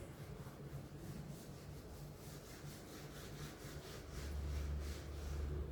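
Steady, rhythmic rubbing of a duster across a classroom board to erase written math working, a close, quiet, continuous swishing back and forth with no speech.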